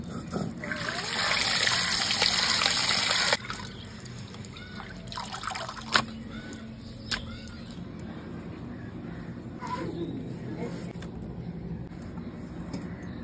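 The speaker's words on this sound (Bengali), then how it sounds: "আবুজি ওইদিকে চিকেনটা পরিষ্কার করছে" Raw chicken being washed under running water, a loud steady gush of tap water for the first few seconds, then quieter dripping and trickling with a few sharp splashes and knocks, nearby.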